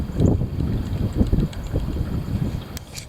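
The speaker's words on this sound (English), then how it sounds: "There it is. The heavy wind." Heavy wind buffeting and rushing in uneven gusts, rumbling low and loud close to the microphone, with a brief brighter rustle near the end.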